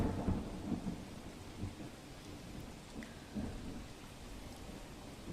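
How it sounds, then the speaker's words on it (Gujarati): Heavy rain falls over Ahmedabad with low thunder rumbling through it, a faint, distant and steady downpour whose rumbles swell now and then, with no speech. "અમદાવાદના મોટાભાગના વિસ્તારોમાં હાલ વરસાદી માહોલ જોવા મળી રહ્યો છે"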